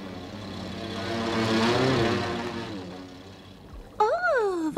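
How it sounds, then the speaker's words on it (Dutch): A low-flying propeller airplane swells to a loud, rumbling drone overhead and then fades. A sharp whistling, swooping tone cuts in near the end. "wat vloog dat vliegtuig laag"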